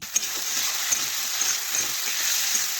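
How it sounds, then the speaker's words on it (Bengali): Potatoes with spices are fried and stirred in a pan for a vegetarian cabbage curry, producing a continuous close hiss of sizzling oil with faint scraping and small pops. "সমস্ত কিছু একসাথে মিশিয়ে আমি বেশ কিছুক্ষণ ধরে আলু একটু কষে নিচ্ছি"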